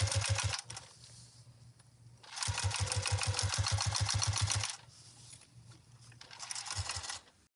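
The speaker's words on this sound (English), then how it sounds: "we are going to top stitch all the way around with an 1/8 of an inch seam allowance" A sewing machine top-stitches a wallet pocket with zipper tape in rapid bursts of steady mechanical stitching, starting and stopping several times with short pauses between runs, close and clear.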